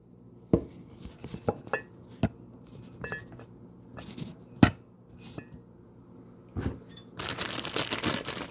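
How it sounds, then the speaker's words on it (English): A knife cuts through pre-washed baby carrots on a cutting board, giving sharp, crisp, separate chops at an uneven pace, close and fairly quiet, followed by a short burst of rustling. "I like a lot of baby carrots in my salad, by the way, so I'm going to cut up some more."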